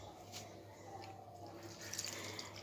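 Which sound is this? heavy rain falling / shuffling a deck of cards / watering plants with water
watering plants with water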